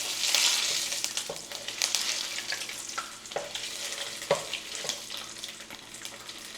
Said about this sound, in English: And we're just gonna let this fry.